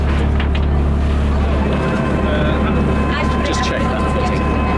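A full local dive boat sits at Seahouses Harbour near the Farne Islands, its engine a loud, continuous droning rumble with wind and water noise, while people talk over it.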